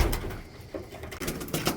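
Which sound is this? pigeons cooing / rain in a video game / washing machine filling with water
pigeons cooing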